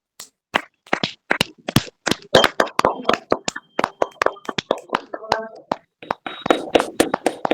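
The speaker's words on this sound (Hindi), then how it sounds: "आइए प्रभु को जोरदार ताली देंगे।" A church congregation at a women's fellowship prayer meeting claps in uneven, lively applause, sharp hand claps bursting close and loud for several seconds, with voices calling out amid the clapping.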